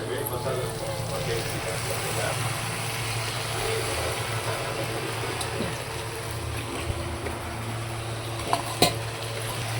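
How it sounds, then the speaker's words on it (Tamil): Boiled pasta being stirred and mixed in a pan, with soft scraping and light sizzling under a steady low hum and occasional clinks near the end. "இங்கே வெந்திருக்கிற பாஸ்தாவை இது கூட மிக்ஸ் பண்ண போகிறேன்"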